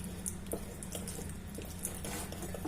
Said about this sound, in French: Et on va mettre l'eau doucement pour diluer